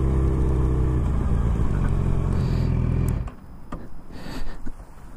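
A motorbike rides on pavement in open countryside, its loud engine droning steadily for about three seconds before cutting off to quieter wind and faint rustling.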